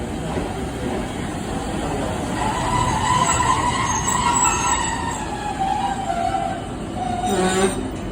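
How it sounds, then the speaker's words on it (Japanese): A Hankai Tramway Mo351-type tram pulls into a station, its loud rumbling wheels and motor whine rising and holding, with squealing tones near the end as it comes to a stop. "ただいま到着の列車は田辺の駅に着いています"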